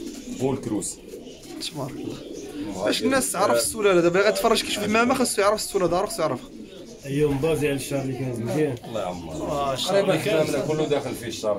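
Racing pigeons in a loft coo softly and repeatedly in the background while someone talks over them almost without pause.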